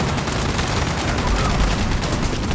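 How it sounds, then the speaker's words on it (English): Sustained automatic gunfire in the video game Fallout 76, a dense rapid stream of shots at steady loud level throughout with no pauses. "All I gotta do is keep on shooting, putting more bullets into this guy"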